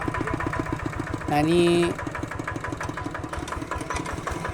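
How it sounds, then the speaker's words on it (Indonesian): A tractor engine chugs steadily with a rhythmic low putter as the tractor is driven up a high spot on a cassava farm. A loud, brief tonal whine rises over it partway through, and a person speaks briefly. "sekarang traktor akan dibawa naik"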